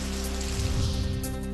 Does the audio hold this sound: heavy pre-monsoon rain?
yes